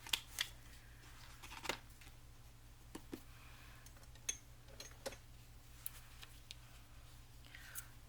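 Scissors snip paper trimmings for a handmade Rose Tapestry journal, a handful of quiet, sharp, irregular cuts and rustles against a faint room hum.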